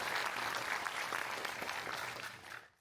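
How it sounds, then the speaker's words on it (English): A warm round of applause for a project team at a public event on Singapore's electoral future, a steady wash of clapping that tapers off at the end, faint and somewhat distant. "Can we have a warm round of applause for the SDP project team?"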